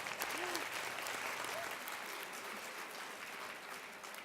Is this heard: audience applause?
yes